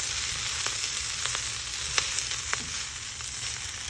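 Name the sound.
baby kale cooking in oil in a pan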